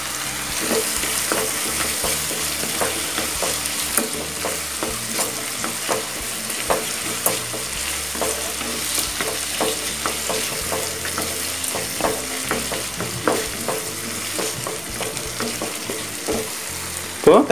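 Tomatoes sautéing in oil with rock salt for an oil-based brinjal gravy, a steady close sizzle and fry with frequent clinks and scrapes of a stirring spoon against the pan.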